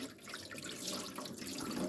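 Water poured off from a container while washing tomato seeds, a steady soft splashing trickle close by with no voices.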